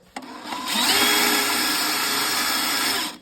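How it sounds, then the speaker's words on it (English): A power drill fitted with a 1/4 inch bit spins up and bores steadily through material for about two and a half seconds, close and continuous, then stops, with no talk. "You drill these little fellers right on out, just like this."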